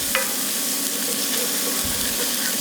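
General Tso's chicken, made extra hot and spicy, tossed and stirred in a hot pan, giving a steady, even sizzle and frying hiss that runs close and unbroken throughout.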